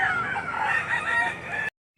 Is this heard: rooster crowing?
yes